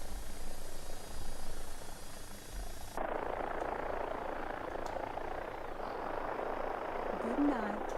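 Simulated AW-109 helicopter engine and rotor in the X-Plane 12 flight simulator, a steady close drone running the full length with a shift in tone partway through, faint talk over it.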